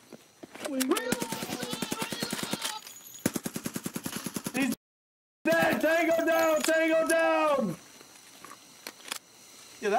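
Automatic gunfire from Escape From Tarkov rattles in rapid bursts, close and loud, broken by a brief silent gap and followed by another long burst, with voices talking over it.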